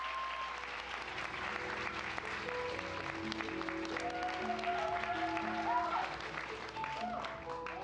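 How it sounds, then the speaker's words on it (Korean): Steady audience applause fills a hall in welcome of the Daejeon District Prosecutors' Office chief prosecutor at a regional high school law competition, dense and sustained with some tonal background sounds mixed in. "힘찬 박수로 맞아주시면 고맙겠습니다."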